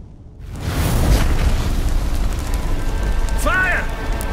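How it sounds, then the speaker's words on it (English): Fire and flames erupting in The Witcher 3, a sudden roaring whoosh that swells into a steady, loud crackling rumble, with a brief voice-like cry near the end. "The flames! Douse the flames!"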